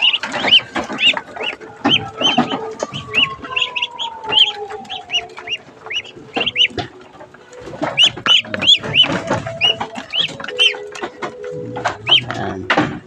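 A group of ducklings waiting for feed peep and chirp continuously in a busy, overlapping chorus, close and loud, with a faint whistling tone underneath and no one talking.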